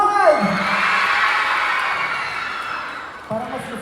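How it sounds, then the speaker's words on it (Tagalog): An audience at a live comedy show in Siaton, Negros Oriental shouts and cheers in a steady, loud wash of voices, with the host speaking briefly at the start and again near the end. "Magpalakpakan na may dalang hiyawan dito na side!"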